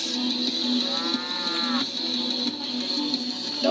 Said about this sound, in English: Those brown cows are roaming around the island